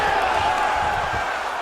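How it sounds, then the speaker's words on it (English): A virtual arena crowd in the UFC 5 video game gives a sustained, steady roar of cheering during a women's fight at UFC Mexico, a dense, even wash of noise without distinct claps. "crowd pops as she reverses position."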